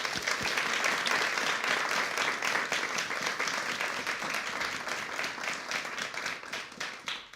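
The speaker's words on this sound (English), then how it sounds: "Can we have a round of applause for the scientists, please?" An audience applauds the scientists at a NASA briefing on the 2017 total solar eclipse at the Newseum, with loud, dense clapping from many hands that holds steady and then tails off near the end.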